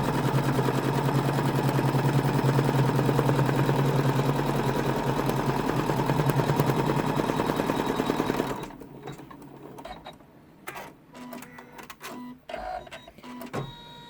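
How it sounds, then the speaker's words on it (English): An embroidery machine stitches a basting line for a curved zip pouch: a steady, fast mechanical chatter for about eight seconds, then it stops and leaves scattered clicks and handling noises. "the line of basting that we have just stitched is this inside line right here"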